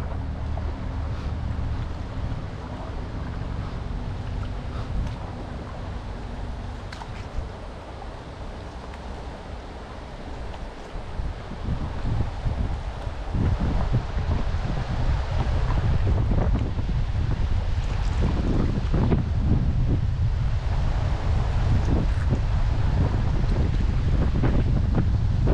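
Strong wind buffets the microphone during a canoe trip down a river, a constant deep roar that swells louder and gustier partway through, with water sounds beneath it.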